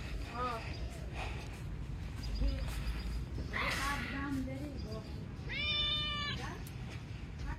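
A cat meows repeatedly, several drawn-out cries close to the listener in a village home, mixed with people talking and background noise.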